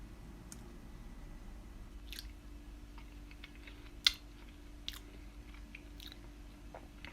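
Faint, close chewing and soft clicks of someone tasting mashed pierogi filling seasoned with salt and pepper, with a louder crunch-like tap midway against a quiet background.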